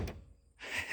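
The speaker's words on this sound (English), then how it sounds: "here's how the doors sound now" A car door thunks shut with a solid, close impact, followed by a short quiet gap and then a second muffled clunk.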